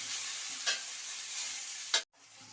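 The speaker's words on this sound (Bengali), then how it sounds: "আবার এই সব মশলাগুলোকে একসাথে ভালো করে কষিয়ে নেব" Spices, slit green chillies and ginger paste frying in a pan for spinach and prawn chorchori: steady close sizzle with two brief stirring scrapes, cut off abruptly near the end.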